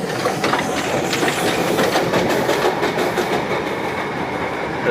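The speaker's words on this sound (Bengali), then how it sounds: "বাতাসিয়া লুপের এখান থেকে দেখুন ট্রেন," The Darjeeling toy train passes Batasia Loop with a loud, continuous rumble and rhythmic clatter of wheels on the rails, heard close and steady throughout.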